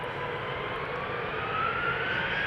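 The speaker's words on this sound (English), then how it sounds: "TUI Dreamliner." TUI Boeing Dreamliner jet airliner at Amsterdam Schiphol Airport, a steady broadband engine roar with a faint rising whine, moderately distant and continuous, with no voices.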